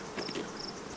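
Honey bees hum steadily around their hives at the end of the day, a close, continuous insect buzz with a faint high whine riding on top for the whole brief moment.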